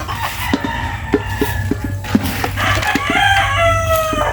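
Chickens cluck and squawk in a busy flock nearby, with roosters crowing over the steady chatter of many hens.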